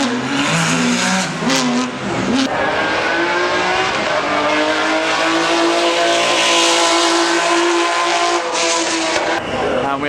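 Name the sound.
race cars driving to hill climb start, Goodwood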